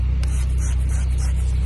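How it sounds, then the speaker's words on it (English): Barc cleaner hisses from a spray bottle onto stains in short close bursts, set over a loud steady low hum from nearby equipment. "I'm going to spray Barc"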